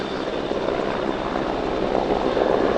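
A Merlin helicopter hovers at an air display over the sea during a rescue demonstration, its rotor and engine making a loud, steady, continuous roar with no voices.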